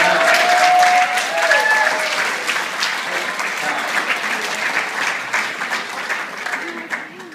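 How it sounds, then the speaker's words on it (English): Applause from an audience fills the room, loudest at the start and gradually thinning out, with scattered voices mixed in. "Give her a round of applause"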